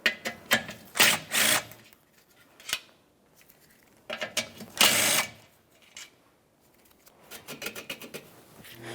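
Two 10mm bolts being removed from a plastic bumper bracket on a 2012-2018 Nissan Altima, with close bursts of rapid ratchet clicking broken by pauses and brief handling noises.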